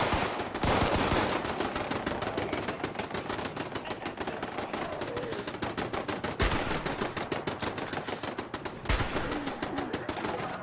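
Rapid rifle gunfire in Fallout 76 during a defensive wave, a relentless stream of close, loud cracking shots with only two brief breaks across the stretch.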